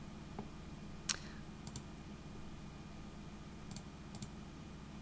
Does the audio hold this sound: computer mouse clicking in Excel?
yes